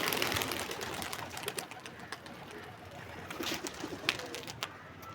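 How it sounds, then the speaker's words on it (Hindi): A pigeon set free from a rooftop flies off and circles back, with soft cooing and fluttering among faint outdoor background noise. "हमने उसको उड़ा दिया है, तो वो वापस घूम के फिर हमारी छत पे ही आ रहा है।"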